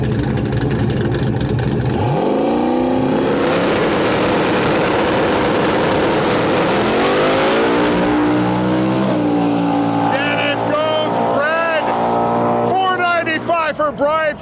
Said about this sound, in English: We have our 85 Mustang GT with a ProCharge Coyote, and we're going into round one